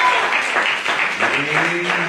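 Church congregation claps in praise during a service, a dense, loud stretch of clapping mixed with voices and a sustained tone for about two seconds.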